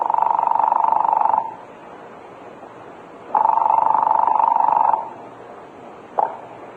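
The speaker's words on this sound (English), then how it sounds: "I heard the buzz on the line at the other end" A steady electric buzz on a phone line sounds in two long bursts with a pause between, then a third starts and cuts off.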